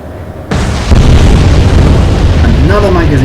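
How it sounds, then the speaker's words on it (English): A ship's magazine detonates in the naval strategy game Atlantic Fleet, a sudden loud boom that swells into a sustained roaring rumble of explosion and debris, close and heavy throughout. "Another magazine detonation."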